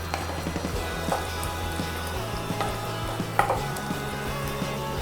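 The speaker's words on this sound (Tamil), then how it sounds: "வெட்டி வச்சுருக்கிற தக்காளியை வந்து போட்டுடலாம். போட்டுட்டு நல்லா வதக்கி விட்ருங்க" Chopped tomatoes sautéing for a street-style mutton liver dish, giving a steady low sizzle with faint stirring scrapes and occasional spatter ticks, no voices.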